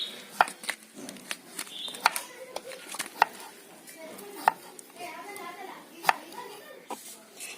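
Raw mango and ginger being cut for a homemade pickle, with sharp, irregular knife knocks and taps against a board, close and fairly quiet, scattered amid soft handling noises.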